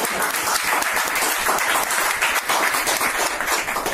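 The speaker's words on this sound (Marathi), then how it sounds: "जोरदार टाळ्या वाजवा" Loud, dense applause from a crowd, sustained steadily throughout with no pauses or voices standing out.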